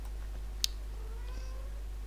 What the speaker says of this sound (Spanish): ¿Eso es el gato?